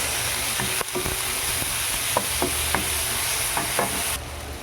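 Garlic, onion and tomato sautéing in a pan for a clam soup, giving a steady close sizzle with scattered clicks and scrapes of a utensil stirring, ending abruptly.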